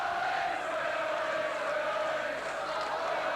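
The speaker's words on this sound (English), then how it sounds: "that little incident there involving Maskill and Aston has brought a roar to the throats of the crowd" A stadium crowd roaring at a 1990 rugby league match between Leeds and Sheffield, a loud, sustained, distant-sounding wall of voices with no pauses, briefly swelling.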